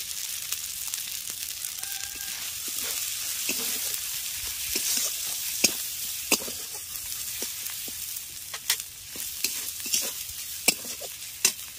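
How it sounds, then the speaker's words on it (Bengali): Ground peanut and coconut paste with turmeric fries gently in a pan over low heat, a steady soft sizzle broken by occasional scrapes and clicks of a stirring spoon. "এবার বাদাম আর নারকেলটাকে একদম অল্প আঁচে একটু ভেজে নিলাম।"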